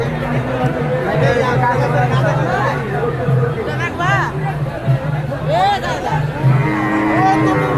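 Cattle at a busy Qurbani cattle market in Dinajpur low and moo several times, some calls rising and falling, amid a crowd's chatter and nearby talking.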